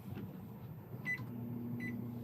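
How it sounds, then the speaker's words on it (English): A microwave oven hums steadily inside an RV, a low, fairly quiet drone with a couple of short beeps from the controls. "So let's go ahead and turn on the microwave"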